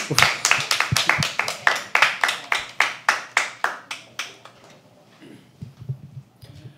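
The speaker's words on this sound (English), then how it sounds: "Keep clapping till he comes on stage, guys." Audience at a live poetry open mic claps in a steady series of sharp, loud rhythmic claps that gradually thin out and fade, leaving a few scattered taps and faint room noise.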